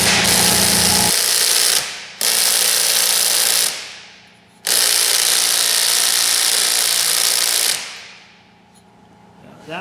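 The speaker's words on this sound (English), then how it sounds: "I'm gonna get the rattle gun and see if I can rattle that baby right out of there" An impact wrench rattles loudly in three long bursts, pausing between them, while working a motor out of a 1974 Harley-Davidson golf cart.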